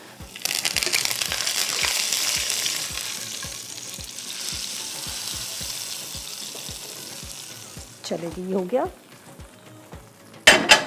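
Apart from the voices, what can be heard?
onion and cumin tempering sizzling in oil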